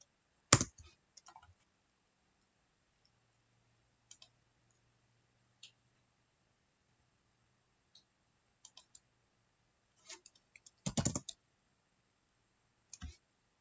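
Keys on a computer keyboard clack as Linux commands are typed, in sparse bursts of sharp clicks separated by long silences, with a louder flurry of keystrokes near the start and again toward the end.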